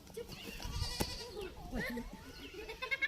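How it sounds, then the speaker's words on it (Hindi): A goat bleats a few times in a rural setting, wavering cries heard close amid people talking and rustling. "पकड़ बकरी छियै रे"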